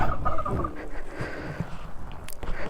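A turkey gobbles nearby among dogs and poultry at a homestay, a burst of quick rattling calls at the start followed by softer clucks and background farmyard noise.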